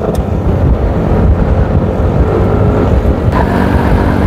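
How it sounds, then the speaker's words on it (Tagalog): Heavy wind buffets the microphone in a loud, constant low roar during a cycling race, with a faint vehicle-like rumble underneath. "Malakas yung hangin."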